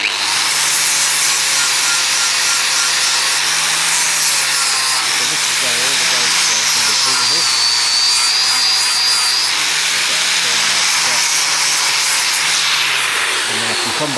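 Harsh, loud, continuous grinding or abrading cleans up a weld on a frame, staying close and steady throughout with a low hum underneath.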